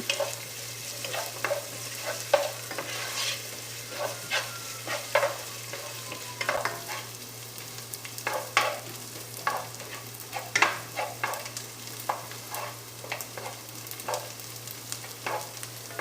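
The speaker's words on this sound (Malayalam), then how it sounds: "ഉപ്പ് ചേർത്ത് സവാള വഴറ്റി കഴിഞ്ഞാൽ നമുക്ക് സവാള പെട്ടെന്ന് തന്നെ വഴണ്ട് കിട്ടും." Sliced onions with salt sizzle steadily in a pan for a chicken sausage potato curry, with repeated stirring scrapes and clicks of the spoon across the whole stretch, fairly close and with no talking.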